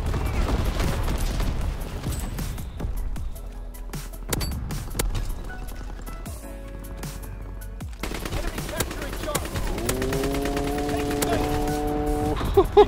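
Rapid machine-gun fire rattles in repeated bursts during a Call of Duty: World War 2 match, loud and close, with a mechanical whirring tone rising near the end.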